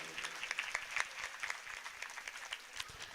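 An audience claps at a Shrimad Bhagwat Katha religious gathering in Champa, a quiet, scattered patter of hands that stays fairly distant and steady throughout.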